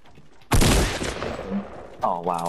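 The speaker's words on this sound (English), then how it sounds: "Who the fuck was shooting at him?" Bursts of gunfire ring out in the Fortnite battle royale video game, a loud rapid volley that trails off, followed by a brief higher-pitched in-game tone.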